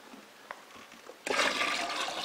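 Hot bee tea, a sugar syrup brewed with tea, gushes from a pot into a bucket in a sudden loud, steady rush that starts after a quiet moment with a few small clinks.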